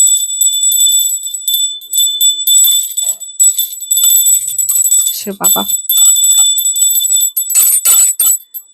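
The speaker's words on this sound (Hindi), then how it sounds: "मेरे को इंट्यूटिवली आया घंटी बजाओ, तो घर बजा दी मैंने" A bell is rung at home, bright continuous ringing with repeated strokes running throughout while a voice speaks over it.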